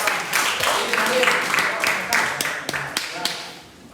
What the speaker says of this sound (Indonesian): beri tepuk tangan buat yang depan